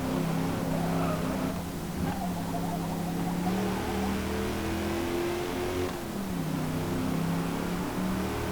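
Stock car engine in Forza Motorsport, an Aussie sport sedan held at steady high revs with pitch dips at gear changes, loud and continuous with faint tyre noise and no talk.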